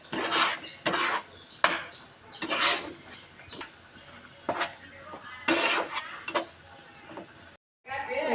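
Stirring food in a pan with a spoon: repeated scraping, rasping strokes and clinks of metal against cookware, irregular and close, with someone talking between strokes.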